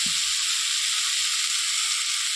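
Spices for a banana curry fry in a pan, a loud, steady sizzling hiss that fills the whole moment, with a couple of faint low knocks near the start.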